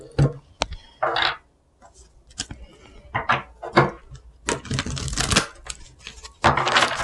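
Tarot cards shuffled and drawn during a reading, heard as a string of crisp papery riffles and slaps in irregular bursts that grow denser and longer toward the end, close and fairly loud with no voices.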